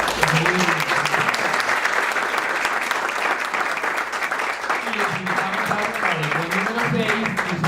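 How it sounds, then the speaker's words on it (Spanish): An audience applauds the panelists at the close of a regional sustainable development forum, a steady wash of clapping that fills the room throughout, with low voices murmuring beneath it. "Un aplauso para los panelistas."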